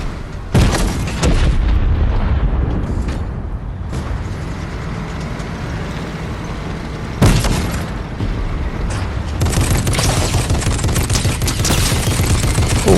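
Tank cannon and gunfire in the video game Fortnite, played on PS4 console: loud, dense bursts of booms and rapid shots filling the scene, with sharp blasts near the start and again around the middle.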